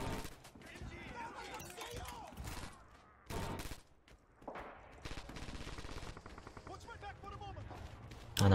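Gunfire in Red Orchestra 2 multiplayer on the Bridge to Despair map: a near-constant rattle of rifle and machine-gun shots, some close and sharp, others distant, with a voice speaking over the battle.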